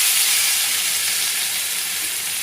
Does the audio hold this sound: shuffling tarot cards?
no